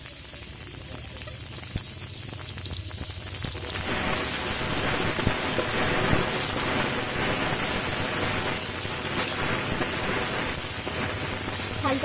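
Onion and garlic frying together in white oil in a pan: a steady hissing sizzle that jumps louder a few seconds in and stays broad and continuous, with no talking.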